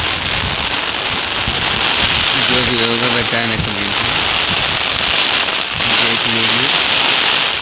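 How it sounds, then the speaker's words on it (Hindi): Heavy rain pours down steadily in a dense, loud hiss, with wind; someone talks briefly over it in two short bursts. "बारिश बहुत तेज़ी से हो रहा है"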